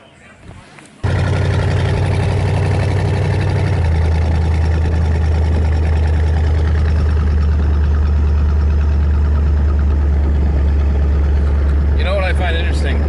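A custom 1931 Ford truck powered by a Buick six-cylinder engine with carburetors starts up and settles into a steady, loud idle that runs close by, with a voice briefly heard near the end.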